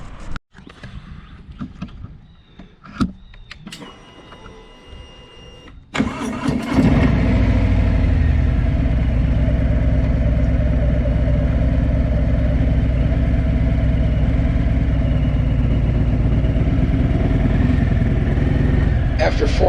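A motorcycle engine cranks over after a few quieter knocks and clatters, catches and starts, then settles into a loud, steady idle close by for the rest of the stretch.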